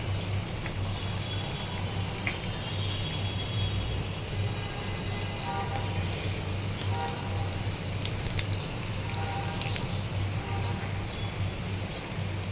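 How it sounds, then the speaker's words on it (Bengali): Singara (samosas) fry in hot oil over a medium flame. The oil makes a steady, dense crackle and sizzle that stays even throughout, with sharper pops now and then, and no one talks over it. "তেলটাকে একদম ভালো করে গরম করে তখন চুলাটাকে মাঝারি করে আমি আস্তে আস্তে সিঙ্গারাগুলা দিয়ে ভেজে উঠিয়ে নিব"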